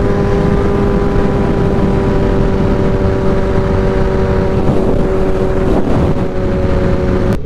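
A motorcycle cruising along a road, its engine holding a steady, close drone beneath a constant rush of wind buffeting the microphone, with no voices.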